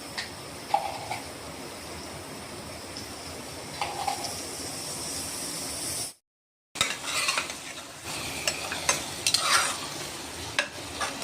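Spiced masala with coriander and salt sizzling in a cooker pan while a spoon stirs it, a steady hiss with scraping and clinking strokes throughout, broken by one brief silent gap.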